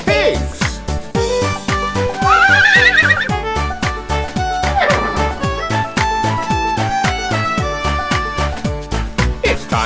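A horse neighs amid a bouncy children's farm-song recording, the whinny rising over steady rhythmic music and singing near the start of the track.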